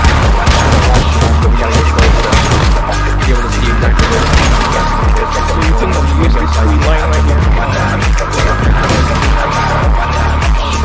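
Rockets launch and burst in a Once Human stronghold raid, a dense, loud barrage of repeated booms and blasts rolling on without pause, thick low-end rumble throughout.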